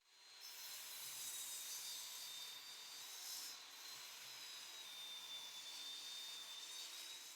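Steady hand or machine sawing through a reclaimed wood board, a continuous rasping hiss with a faint high whine, held at even loudness for several seconds with no voices.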